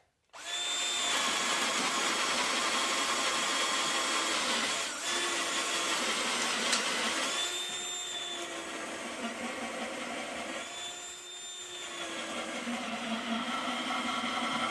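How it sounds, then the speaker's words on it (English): A power drill whines steadily and loudly at close range, boring about four inches into a wooden post, with slight changes in pitch as it goes deeper, uninterrupted for the whole stretch. "I drill down about 4 inches"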